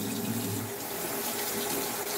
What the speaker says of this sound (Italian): Lo vado a riscaldare sotto l'acqua